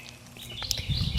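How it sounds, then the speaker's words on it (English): Birds sing in a backyard with scattered thin chirps and tweets, faint and a bit distant over a soft outdoor background. "You hear the birds?"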